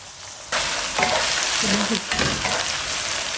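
Chicken frying in hot oil, a steady loud sizzle that jumps up sharply after a quiet start and carries on with small crackles and the scrape of stirring.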